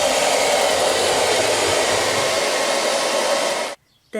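An Ilife V3s Pro robotic vacuum cleaner sucks up household fluff with a steady, loud, close whirring drone that runs unbroken for several seconds, then cuts off abruptly near the end.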